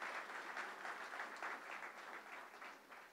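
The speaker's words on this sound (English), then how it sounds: "Let's give them a round of applause." A round of applause from an audience at a press conference sounds faint and distant. The clapping stays steady and sustained throughout.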